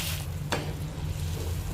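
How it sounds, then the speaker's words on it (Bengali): Water poured into fried spice paste for Bengali muri ghonto raises a steady, low sizzle and bubbling hiss, with one sharp splash or clink near the start. There is no talk. "এবার মা এখানে দিয়ে দিচ্ছে পরিমাণ মতো জল।"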